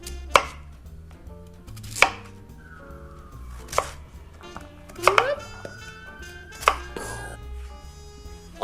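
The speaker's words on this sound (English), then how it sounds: "we're gonna dice this into little pieces" A knife dices a peeled beet on a cutting board in a few sharp, spaced chops with some clattering between strokes, close and distinct, no talking.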